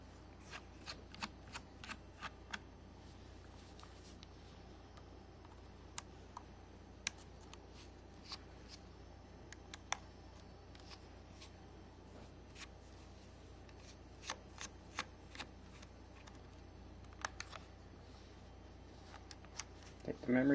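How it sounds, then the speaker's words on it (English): Screws being removed from a P32 camera make faint, close, scattered clicks and ticks across a quiet stretch, irregular small metallic taps with a soft handling sound at the end. "Alright, we'll start removing the screws."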